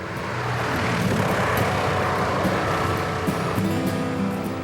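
A small, light surveillance airplane with a top speed of about 140 miles per hour drones steadily overhead, its engine a continuous, fairly loud hum with no voices.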